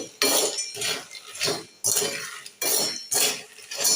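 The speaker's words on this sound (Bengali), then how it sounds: "এখন যে বাদাম ভাজছে" Peanuts roast in a small amount of hot sand in a pan, stirred in loud, rhythmic gritty scraping strokes that come about every second, each ending with a rattling clatter.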